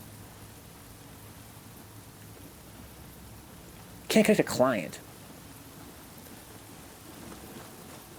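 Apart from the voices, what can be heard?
rain in the video game Nioh 2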